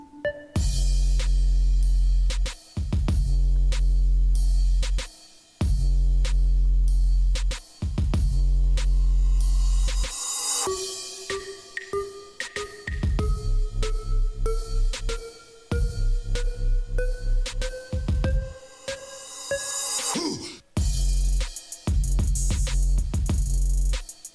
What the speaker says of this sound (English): With the drums together, it sounds like this.